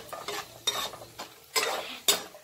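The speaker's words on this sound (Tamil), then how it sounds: "கொஞ்ச நேரத்துக்கு நல்லா வறுக்கணும் இந்த எண்ணெயில்" Cashew nuts frying in oil as they are stirred in a pan, with soft sizzling under a series of distinct scraping stirs that come in irregular bursts, close and fairly quiet.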